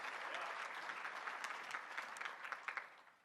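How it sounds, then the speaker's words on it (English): A large crowd applauds at the 2021 National Soccer Hall of Fame induction ceremony in Dallas, a dense, even roar of clapping heard from a distance that thins slightly toward the end. "let's give Jorn a round of applause and his team."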